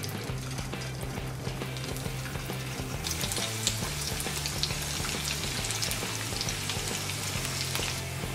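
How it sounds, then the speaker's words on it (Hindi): Semolina vegetable balls dropped into hot oil and deep frying, a dense steady sizzle that grows brighter and busier partway through, close and continuous, no talk. "अभी मैं ये थोड़े से बॉल्स इसमें डालती हूँ।"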